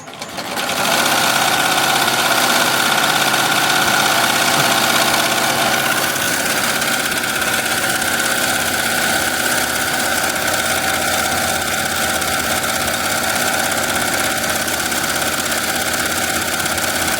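An embroidery machine stitches a jacket at 1000 stitches per minute, a loud, steady mechanical whir and rapid clatter that starts up and holds an even, continuous drone throughout, with no speech.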